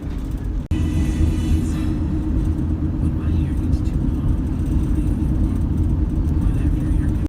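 A car rolls over a bumpy road, with a loud, steady low rumble of engine and road noise filling the whole stretch, broken only by a brief dip near the start; a voice talks over it.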